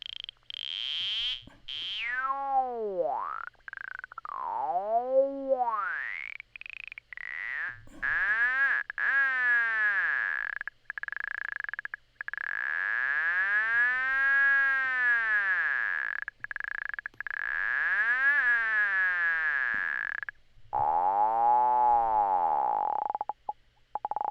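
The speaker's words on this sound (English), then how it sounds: "Bandpass filter will cut out the tops and the bottoms" A synth tone swept through a sharp, resonant bandpass filter, producing repeated whooping, chirping sweeps up and down with brief gaps between phrases.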